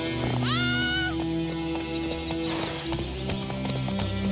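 Horse hooves clip-clop at a steady walking rhythm in The Witcher 3, with a brief neigh near the start and game ambience underneath.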